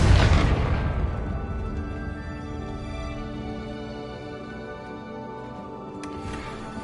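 Confringo explosive spell in a wizard video game bursts with a heavy boom at the start, then a long rumbling tail that slowly fades, with a faint crackle flaring near the end.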